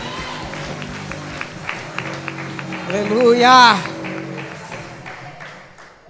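A church congregation claps steadily in praise, a dense run of rhythmic hand claps, while a voice calls out and briefly sings above it.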